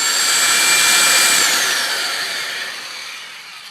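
A Kobalt 1/2-inch impact wrench breaks a tight lug nut loose with a loud, continuous, close-up mechanical whir. The sound holds steady, then gradually fades over several seconds, with no voices.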